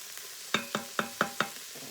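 Meat browns in a pot for black-eyed peas, with a faint steady sizzle under five evenly spaced scraping stirs of a utensil against the pot.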